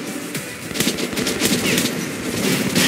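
Modernized Kalashnikov rifle from Metro 2033 Redux firing in rapid automatic bursts, sharp repeated cracks close and loud over a rumbling game background, with a brief pause before the shooting resumes and continues.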